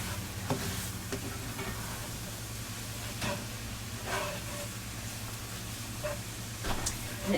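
Fat, oil and flour frying together with vegetables in a pan, a steady sizzle with occasional stirring clinks and scrapes of a utensil, close and continuous with no talking.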